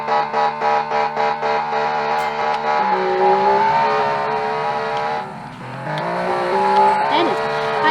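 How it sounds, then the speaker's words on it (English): A high-revving flat-six rally car engine in a video game, with sequential transmission, screams and climbs through the gears toward 9,000 rpm, with pulsing revs at first and a brief dip before winding up again, loud and close. "That is a high revving engine."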